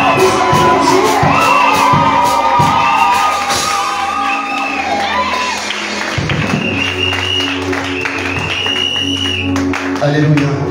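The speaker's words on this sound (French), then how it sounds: "Plus de cris de joie." Church congregation at a lively French-language worship service shouting and cheering with joy, a dense, loud crowd roar with whoops and clapping that runs steadily throughout.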